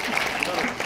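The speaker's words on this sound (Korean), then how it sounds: "큰 박수 보내주시고요" Wedding guests applauding at a traditional Korean wedding ceremony, a short, dense patter of many hands that fills the brief moment.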